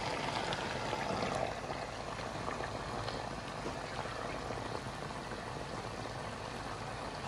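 Warm water poured into a pan of frying potatoes with Kazakh quyrdaq of tripe and intestines, producing a loud, steady rushing hiss and bubbling sizzle that holds evenly throughout.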